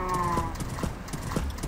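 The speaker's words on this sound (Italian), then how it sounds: "abbiamo il nostro cavallo" Horse hooves clip-clop in a steady trotting rhythm in Minecraft, a series of evenly spaced soft knocks over a continuous game background, with a voice speaking over part of it.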